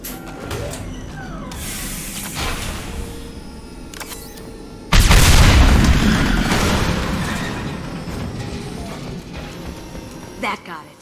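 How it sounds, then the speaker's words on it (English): Fuel tanks explode in the Mass Effect 2 video game: a sudden loud boom that rumbles and slowly fades over several seconds, set against steady gameplay noise with voices around it. "We'll take heavier weapons than that to blow those tanks."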